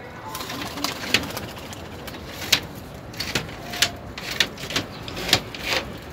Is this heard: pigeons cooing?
yes